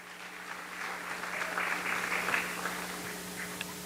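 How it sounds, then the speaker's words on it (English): Audience applause at a live musical concert builds from a modest start to a fuller peak, then tapers slightly. A low steady hum from the sound system runs underneath. "So let's give them one big round of applause."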